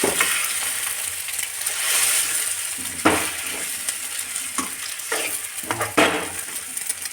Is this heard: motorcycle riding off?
no